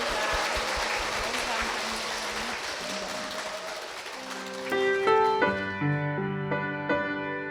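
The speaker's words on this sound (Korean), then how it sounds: "우리 그런 마음으로 축복의 박수 부탁드립니다" A church congregation at Hanyang Church applauds in blessing with a dense, steady clapping roar for several seconds. The applause fades as piano notes begin.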